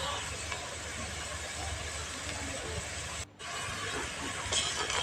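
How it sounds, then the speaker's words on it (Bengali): Chopped onion with turmeric fries in hot oil in a home kitchen, giving off a steady, soft sizzling hiss that carries on evenly and fairly faintly throughout. "পেঁয়াজটাকে লালচে করে ভাজতে হবে"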